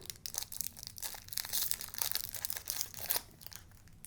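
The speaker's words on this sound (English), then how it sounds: "I'm going to open this roll of film. We're going to trim it to fit." A roll of 120 film being unwrapped and trimmed, giving continuous crinkly paper and foil rustling with crunchy tearing bursts, fairly close and steady throughout with no talking.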